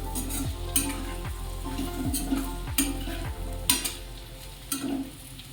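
A spatula scrapes and stirs okra and potato curry sizzling in a pan, irregular strokes and clinks over a steady frying hiss, close and clear.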